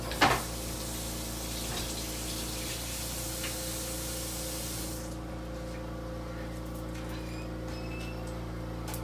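Fresh cilantro is rinsed under a steady stream of kitchen tap water, a continuous hiss heard up close that fades partway through, with a low hum underneath and no talking.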